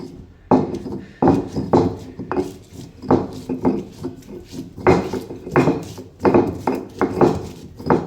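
Knife chopping green chillies and coriander finely on a wooden board for egg bhurji, a quick uneven series of close, crisp thuds repeating steadily without talk.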